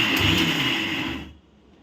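Mixer grinder whirring loudly as it coarsely grinds onions, garlic, chilli powder and salt, a steady motor drone with rattling contents that cuts off abruptly after about a second and a quarter, leaving near silence.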